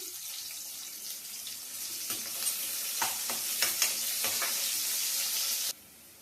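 Finely chopped onions hit hot oil and sizzle steadily in a pan, a dense, loud hiss with a few sharper crackles and spatters, cutting off abruptly near the end.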